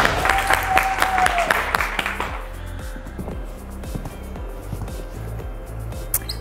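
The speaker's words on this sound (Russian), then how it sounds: "Ну давайте аплодисменты!" A studio audience applauds with a dense patter of clapping that fades after a few seconds, leaving lighter scattered claps and faint background music.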